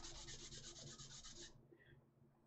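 A model kit part is rubbed back and forth on an MDF sanding plate, a close, rhythmic rasping scrape for about a second and a half before it stops, followed by faint light handling noise.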